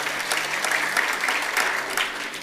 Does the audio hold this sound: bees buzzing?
no